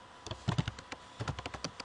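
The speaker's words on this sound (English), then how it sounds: "So I'm just gonna type in a little sheet here." Someone types on a computer keyboard while entering spreadsheet data, giving a quiet, quick run of light key clicks with no talking.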